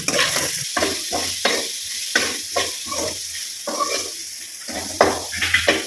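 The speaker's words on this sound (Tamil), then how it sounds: "நல்லா வதங்கணும்." Ingredients for bitter gourd kuzhambu sautéing in a pan, a repeated rhythmic scrape of a spoon against the pan over a continuous close sizzle, with clinks of metal.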